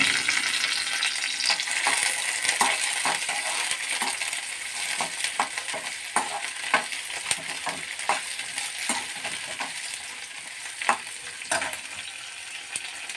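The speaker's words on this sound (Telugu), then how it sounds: "ఈ కరివేపాకు కూడా వేసుకొని కలుపుకున్నామండి" Curry leaves, two sprigs, crackle and sizzle in hot oil as they are stirred in a pan for a amaranth greens fry, a steady bright hiss with frequent sharp pops and clicks of the spoon, close and without speech.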